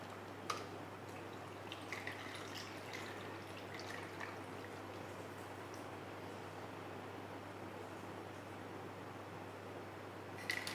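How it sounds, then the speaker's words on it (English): An iced mocha made from Nescafe and Milo is poured over ice, giving a steady liquid trickle and splash for about ten seconds. A faint constant hum sits under it and a couple of sharp clinks mark the start and end. "And then I'll pour my drink over."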